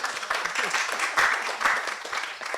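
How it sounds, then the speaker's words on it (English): Audience applause after a panel discussion on innovation and startup growth, a brief, moderately loud burst of clapping from a modest crowd, uneven and fluttering across a couple of seconds. "That's a well-deserved applause."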